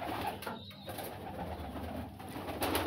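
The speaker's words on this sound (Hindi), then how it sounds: "नया आंखों का ये चपड़ा कबूतर है" A chapra pigeon coos softly in the background, low gentle calls over a steady ambient hum.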